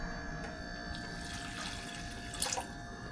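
About a cup of water pours into a pot of stewed apple oatmeal, a soft continuous trickling and splashing that runs quietly for a few seconds with a slightly louder splash near the end.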